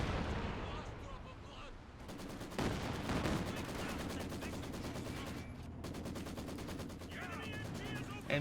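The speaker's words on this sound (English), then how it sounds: "MG hitting the Panzer Grenadiers." Rapid machine gun fire in the Company of Heroes 2 World War II strategy game, a dense rattling burst that runs almost the whole stretch over layered battle noise, with a brief break near the end.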